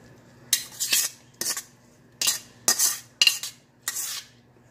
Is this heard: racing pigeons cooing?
no